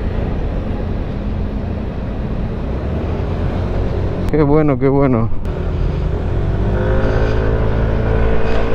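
A Yamaha NMAX 125 scooter rides through city traffic with a steady engine drone and road noise, rising slightly as it accelerates, while a rider briefly speaks partway through.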